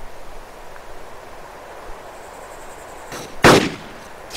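A single sharp M14 sniper rifle shot in DayZ, sounding once near the end over a quiet, airy outdoor ambience.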